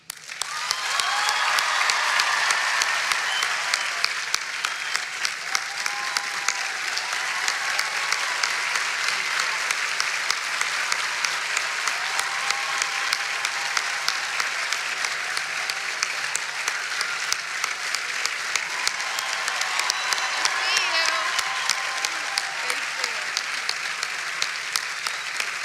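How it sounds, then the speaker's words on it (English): A large crowd at NC State applauds astronaut Christina Koch in a long, loud, sustained wave of clapping that holds steady throughout, with faint voices mixed in. "Let's give her one more Wolfpack round of applause"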